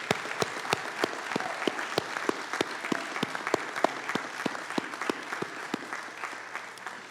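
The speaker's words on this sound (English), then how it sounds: "Let's give them a round of applause." Steady applause from a small group at a town meeting, sharp claps crackling continuously at a moderate distance with no voices.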